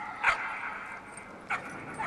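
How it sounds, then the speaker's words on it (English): Dogs in the video game Trover Saves the Universe give two short, yippy bark-whimpers about a second apart, faint against a low background hiss. "Oh, puppies!"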